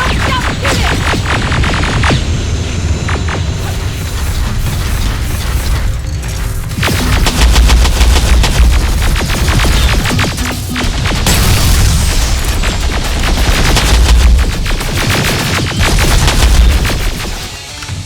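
Sustained gunfire from the Terminator Resistance video game: dense, loud rifle bursts and rapid shots crackle continuously with booming impacts, unbroken throughout with no talk.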